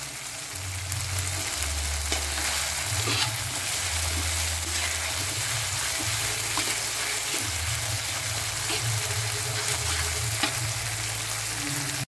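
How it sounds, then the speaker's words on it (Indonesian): Spicy paste frying with tongkol fish in a hot pan sizzles loudly and continuously, with intermittent stirring scrapes and no talk. "Kita goreng sampai harum."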